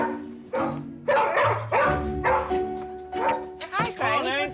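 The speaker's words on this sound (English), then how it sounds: "that's some barking you've got going on there." A dog barks in rapid close bursts indoors, loud yips and whimpering whines mixed in, ending in a higher whining cry.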